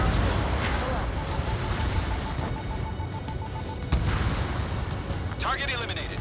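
Bombs exploding in the Ace Combat 7 video game, deep rumbling blasts under a constant roar of engine and battle noise, with game radio voices talking over them.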